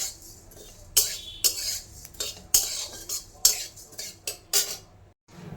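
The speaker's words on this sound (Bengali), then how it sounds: "একটু ধনে, জিরে আর মৌরি শুকনো কড়াইতে আগে একটু ভালো করে ভাজা ভাজা করে নিচ্ছি" Coriander, cumin and fennel seeds dry-roast in a hot wok while a metal spatula scrapes and taps the pan in a steady rhythm of sharp strokes. The sound is close and moderately loud, with no voices.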